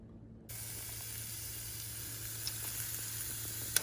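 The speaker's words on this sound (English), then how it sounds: "I'm gonna add some of those chiles to my meat, and a whole lot of garlic" Ground meat with chiles and a lot of finely minced garlic hisses in a hot pan, starting abruptly and then holding a steady, close, fairly soft sizzle with a few faint pops. Nobody speaks.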